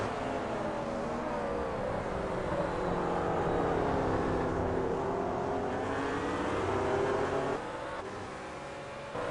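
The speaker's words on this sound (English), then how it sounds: "We've got wounded McLarens all through the back now as I watch everyone come screaming past the front straight." Race cars in an Australia/New Zealand Grand Am series scream past on the front straight, a loud continuous wall of engine roar with shifting pitch as several cars pass close by, dropping slightly near the end.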